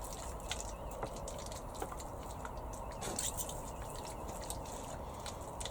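Water poured from a watering can onto soil in seed trays during seed sowing, giving a faint, steady trickle with small dripping and splashing sounds and no speech.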